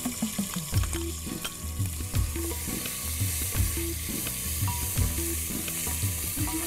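Vertically sliced onions stir-fried with sesame seeds in a pot for a mixed bean pulav, with a steady close sizzle under repeated rhythmic scraping and clanking of a ladle against the pan.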